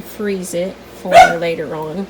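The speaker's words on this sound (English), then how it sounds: "Sorry about the dog barking." A dog barks and yips several times in a farm kitchen, sharp close bursts overlapping with a person talking.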